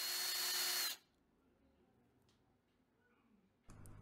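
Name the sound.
power drill drilling wider screw holes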